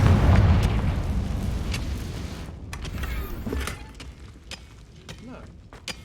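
A Confringo fire spell goes off in Hogwarts Legacy, a loud booming blast up front that fades into crackling debris and scattered pops over the following seconds.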